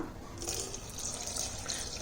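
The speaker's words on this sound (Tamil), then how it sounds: "இப்போ இந்த மாவில் கொஞ்சம் நிறைய தண்ணி விட்டுக்கலாம்." Water is poured into sour dosa batter, a steady splashing trickle close by that runs continuously for a couple of seconds without speech.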